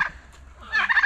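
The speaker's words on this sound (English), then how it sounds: "Saldırıyor da Hindi." A turkey at the Copan ruins in Honduras lets out a quick, close, loud gobble, a burst of rapid warbling notes at the end after a brief opening squawk.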